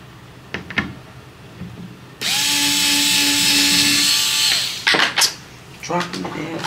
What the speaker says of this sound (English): I have a shitty drill.